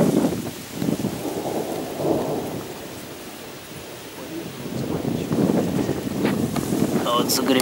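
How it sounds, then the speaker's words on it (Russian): Low, rolling thunder rumbles in long waves alongside gusty wind noise at a pond during a thunderstorm, with a voice speaking briefly near the end. "Загремел гром."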